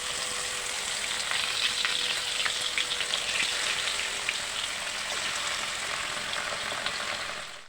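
Fish frying in hot oil in a pan: a dense, continuous sizzle with scattered crackles and pops, steady and close-up throughout, no talking.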